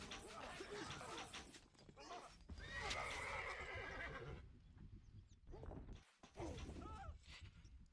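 Horses whinny and hooves clip-clop amid scattered clatter and crashes in a busy battle mix, with brief quiet gaps and occasional voices underneath.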